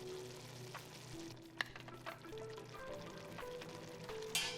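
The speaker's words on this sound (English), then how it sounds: "While the beef is browning, add the bay leaves, the soy sauce, and the tomato sauce." Ground beef browns in a pan for Filipino giniling, giving a steady, moderate sizzle and hiss with a few small clinks and pops throughout.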